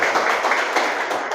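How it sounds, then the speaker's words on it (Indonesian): Children in a classroom clap together in a dense, steady burst of applause, loud and close, with no talking over it. "Tepuk tangan untuk kita semuanya"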